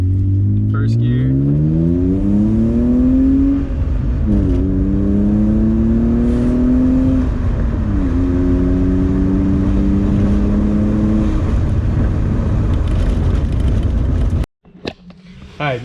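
BMW E36 engine revving hard in first gear with a 3.91 rear differential, pitch climbing and dropping through several quick pulls, loud and close before cutting off abruptly near the end.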